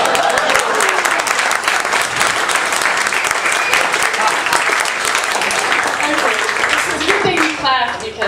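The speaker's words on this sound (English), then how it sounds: "Because I was guaranteed applause if I sang," A stand-up class audience bursts into loud, continuous applause after a sung joke, with a crowd of voices mixed into the clapping, which thins out just before the end.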